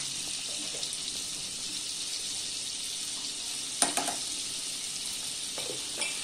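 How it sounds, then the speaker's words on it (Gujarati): Cumin seeds sizzle in hot butter in a pan, a soft steady crackling hiss with a few small knocks from a utensil partway through. "આ બટર ગરમ થાય એટલે એની અંદર આપણે થોડીક નાખી દઈશું જીરું."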